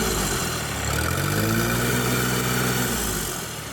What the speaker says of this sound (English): We'll let you listen to the turbo.